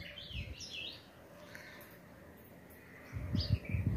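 Wild birds chirp in the open near a bird enclosure under construction, with short bright chirps in scattered bursts at the start and end over a faint background, fairly distant and soft, with no talk.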